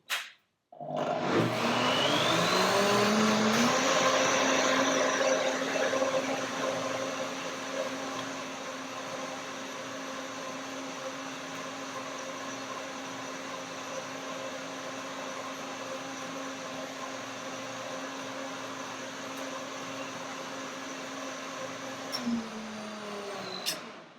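A blender blending pea soup roars up loudly, then settles into a steady whirring drone for about twenty seconds before spinning down at the end.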